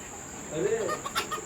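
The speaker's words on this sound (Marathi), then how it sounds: "गुफी गुफी कोंबड्यांच्या मागे पडतोय" Chickens cluck softly in short bursts against a steady hiss and a thin, high continuous whine, as a dog chases them in the rain.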